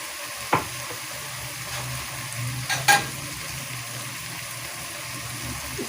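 Red chili masala with crushed red chili sizzles and fries steadily in a pan for kaleji, with a few spoon scrapes and stirring clinks over a constant hiss.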